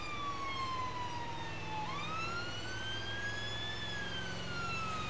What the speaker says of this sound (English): So we've got those nice long tones reaching out ahead of us. Best siren tone for high speed.